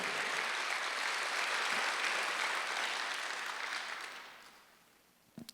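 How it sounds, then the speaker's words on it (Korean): A church congregation applauds during a Sunday worship service, a sustained wash of clapping that thins and fades out toward the end. "박수하셨어요."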